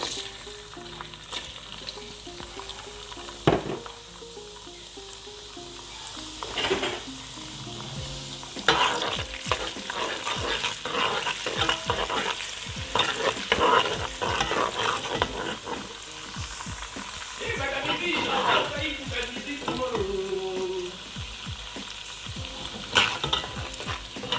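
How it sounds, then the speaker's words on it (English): Onions hit hot oil for Nigerian egusi soup, giving a loud burst of sizzling that settles into a continuous crackle, broken by repeated scrapes of stirring over about twenty seconds, with no voices. "the oil is hot, so I'm just going to add my onions"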